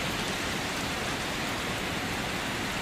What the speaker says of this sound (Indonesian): Suara hujan terdengar jelas.